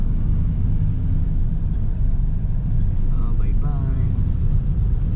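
Road traffic rumbles past on a street in the Philippines, a steady loud engine and tire drone without pause, close by, with faint voices underneath.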